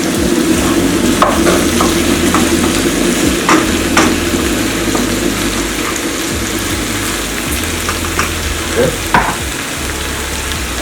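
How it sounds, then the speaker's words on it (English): Steady sizzling from a pot of oxtail stew meat with scraping and clinking as it is stirred, close and continuous throughout, no voices. "Just stir in with the meat."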